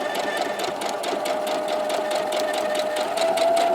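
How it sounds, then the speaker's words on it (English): A sewing machine runs steadily and slowly, stitching along a marked line on a quilt block, its rapid, even needle chatter continuous and close throughout with no talking. "we're going to sew directly on that line. And I like to do these slow when I first start"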